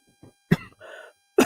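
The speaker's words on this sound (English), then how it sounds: "because I've been coughing a little bit extra" A person coughs during an indoor paper-crafting session, with a couple of soft short coughs followed by one sharp, loud cough, a brief throaty rasp, and another sharp cough at the end.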